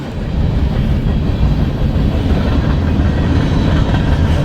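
A freight train rolls past loud and close with a rear distributed power locomotive, a heavy continuous low rumble with steady rail noise and no pauses.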